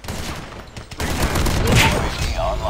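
A weapon firing in Call of Duty Mobile, a short dense burst of shots that swells and holds loud for a couple of seconds after a brief quieter opening.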